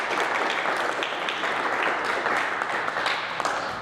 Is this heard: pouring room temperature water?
no